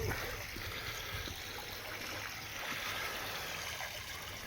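Steady flowing water of the Yvette river, a continuous broadband rush with trickling and gurgling texture, moderately close and even throughout, with no voices.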